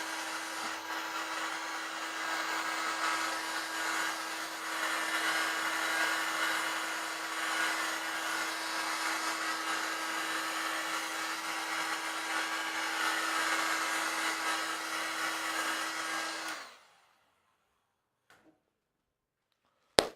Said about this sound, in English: now you have to put the heat gun to make it semi-cured